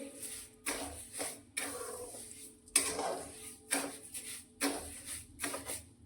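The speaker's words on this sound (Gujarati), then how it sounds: "ગેસને સ્લો રાખી અને તાવેતાને સતત આ રીતે હલાવતા" Sugar melting in a pan over low heat is stirred steadily with a spatula, giving repeated scraping and clinking strokes in a regular rhythm at close range, with no voices.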